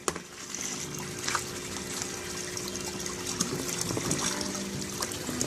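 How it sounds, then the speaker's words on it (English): An aquaponics sump pump pushes water up through a hose, giving a soft, continuous trickling and gurgling flow with small splashes, fairly quiet and heard alone. "We've got some pump is pumping water up this hose."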